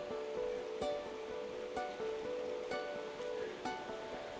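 Creek water flowing along a nature trail on a rural Bedford, Virginia property, a steady rushing wash with occasional sharp clicks of footsteps or sticks, fairly close and without talk.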